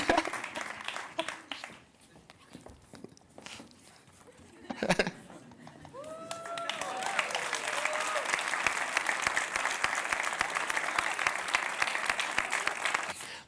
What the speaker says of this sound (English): A big round of applause for our winners.